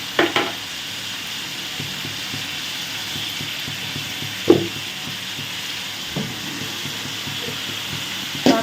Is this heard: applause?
no